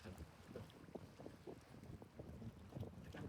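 Gusty wind buffets the microphone in uneven rumbling bursts during a stormy night of shore fishing, with a faint wash of water underneath.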